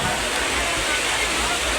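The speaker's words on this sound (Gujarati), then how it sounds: "આ રસ્તામાં એકદમ પાણી વહી જાય" Steady broadband rush of rainwater flowing along a road at Porbandar Chowpatty fair, continuous and fairly loud throughout, like runoff streaming along a surface in rain.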